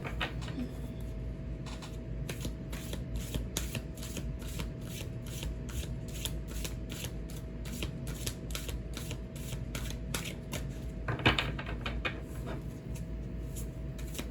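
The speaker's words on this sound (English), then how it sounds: "Started off with the intention of just shuffling this deck and cutting it" A tarot card deck being shuffled and cut in a quiet room, a steady run of crisp riffling card flicks repeating over a low background hum, with one louder flurry of cards near the end.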